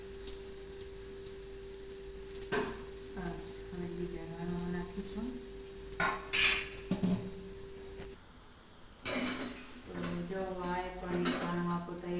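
Fenugreek and spinach fritter batter drops spoonful by spoonful into hot frying oil, giving soft sizzles and utensil clinks in a home kitchen while a person talks at intervals.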